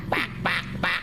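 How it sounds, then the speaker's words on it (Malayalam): A duck gives three loud, nasal quacks in a steady rhythm, each one short and close, with no talking over them. "താറാവ്"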